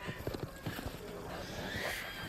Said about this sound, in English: And the werewolves are now riding horses.